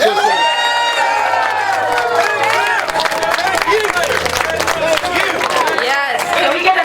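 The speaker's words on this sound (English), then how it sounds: "Can we get another big round of applause for Steve for putting it all out there?" At an outdoor anti-war protest in San Francisco, a crowd cheers and claps for a speaker, with loud shouting voices and whoops layered over scattered applause, continuous and close.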